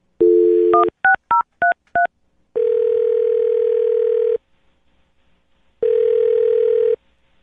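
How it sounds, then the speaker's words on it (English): A telephone number is dialed: a brief dial tone, then a quick run of touch-tone beeps, followed by two long ringback tones separated by silence, loud and close. "I'm going to dial her phone number right now"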